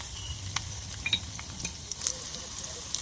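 Garlic and dried red chillies sizzling in hot oil for a dal tempering, a soft steady crackle with a few sharper pops and light stirring, close and fairly quiet with no talk.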